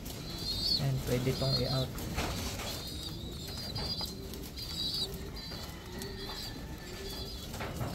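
Ice pigeons coo softly in low, repeated bursts near the start, with wing flaps and rustling around them while someone talks over the birds throughout.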